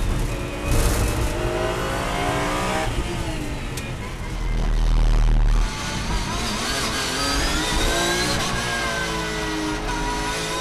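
Lamborghini and Porsche race cars howl past at Paul Ricard during a closing-lap battle, engines loud and sustained with rising and falling revs, one near pass swelling in the middle, over trackside ambience.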